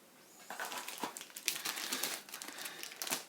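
Outcome cards for the space-race board game Leaving Earth being shuffled by hand, a close run of dry papery riffling and crinkling bursts, fairly quiet, with no talk.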